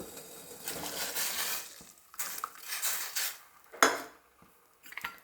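Soaked jowar semolina being stirred into boiling water in a pot, with scraping and clinking of a spoon against the vessel in irregular bursts and short pauses, close and fairly loud, with no voices.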